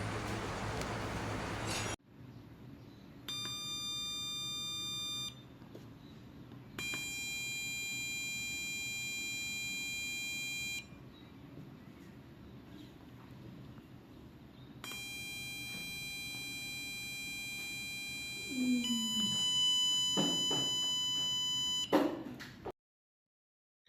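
An electronic buzzer sounds in several long, steady tonal beeps separated by pauses, with a low background hum and a few clicks near the end.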